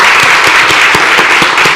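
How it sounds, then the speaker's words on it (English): An audience at a City of Atlanta business program gives itself a round of applause, loud dense clapping filling the room close by, sustained throughout without speech. "Give yourself a round of applause."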